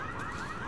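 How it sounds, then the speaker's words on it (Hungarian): A car alarm in Resident Evil 6 blares in a brief, steady electronic wail, fairly loud, with game noise underneath. "Természetesen beindította a riasztót."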